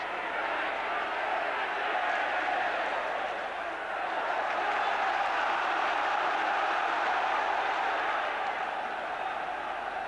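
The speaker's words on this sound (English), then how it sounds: "Certainly getting all the support they want from the crowd at the moment" Spectators roar and cheer at a Chelsea versus Liverpool FA Cup football match, a dense, sustained crowd noise rising and falling slightly throughout, with a commentator's voice running faintly underneath.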